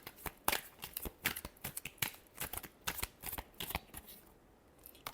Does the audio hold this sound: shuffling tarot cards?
yes